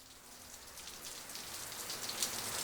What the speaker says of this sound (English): The rain pitter-pattered on the roof.